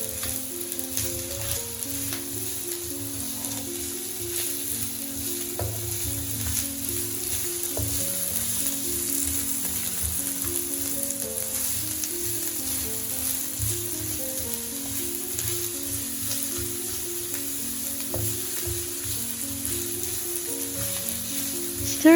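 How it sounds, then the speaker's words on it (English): Chopped onions, two small ones, sizzle steadily in heated oil for a prawn curry, a continuous close frying hiss alongside a soft tonal musical background. "Once the oil is heated up, add in onions."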